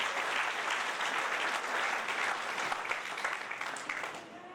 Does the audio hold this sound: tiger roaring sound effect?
no